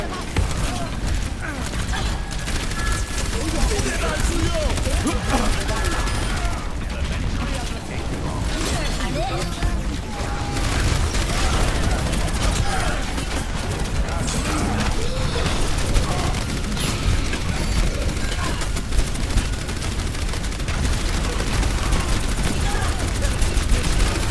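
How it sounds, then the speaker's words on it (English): Overwatch match audio with continuous dense game gunfire, mechanical clatter and rapid shot bursts running steadily throughout at a constant level, with voices talking over it. "Turn around, shoot the Junkrat."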